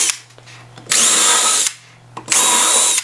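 Power drill driving long screws straight down to anchor a countertop cough-barrier support, two loud sustained whirring bursts about a second each with a quiet pause between.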